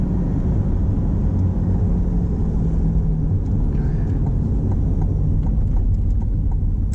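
Low, steady engine rumble of a Chevrolet C8 Corvette under way, upshifting into second gear, with road and wind noise running continuously throughout.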